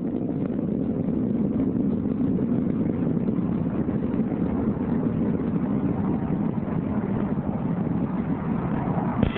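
Delta II rocket carrying Deep Impact climbing during launch at solid motor burnout, a steady dense roar heard from afar, muffled and unbroken, loud and without voices.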